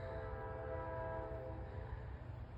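A northbound freight train in Tipp City, Ohio, rolls past rail signals with a steady low rumble and a sustained tonal horn-like drone. It is moderately distant and fades slightly toward the end.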